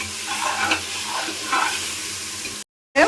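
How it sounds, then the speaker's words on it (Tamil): Ginger garlic paste frying in a pan while being stirred, a steady close sizzle with scraping strokes, then a sudden brief cut to silence before the sound resumes. "இந்த மாதிரி வந்து இஞ்சி பூண்டு பேஸ்ட் போட்டுட்டு நல்லா மிக்ஸ் பண்ணிகிட்டே இருங்க"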